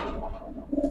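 Racer pigeons of grizzle quality give a brief, soft, throaty coo at close range, a low murmuring call lasting about a second with no talk over it.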